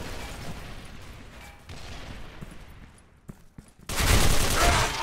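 Gunfire in the online shooter Special Force 2 as scattered distant shots and brief cracks, then a loud, sustained close burst of firing near the end.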